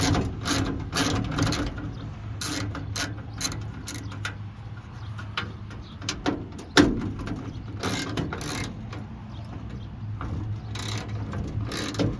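A ratchet on a 5-foot extension turning bolts inside a 1962 Chevrolet Impala door while a window regulator is installed, giving steady mechanical clicking and gear-like whirring in close bursts, with scattered clunks and no talking.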